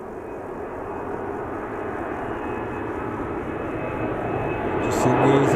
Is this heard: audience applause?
no